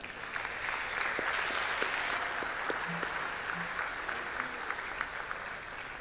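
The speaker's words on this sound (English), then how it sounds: "asking for the first of many round of applause to all the students for all the great" Students receive applause from the audience at a gala awards ceremony, a broad, even roomful of clapping that holds steady throughout, rather distant and soft, with a few sharper claps and a faint voice underneath.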